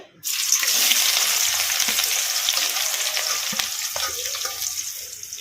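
Onions tipped into hot oil in a kadai crackle and sizzle loudly and steadily, starting abruptly after a brief silence and keeping up a dense, close frying hiss with occasional stirring scrapes.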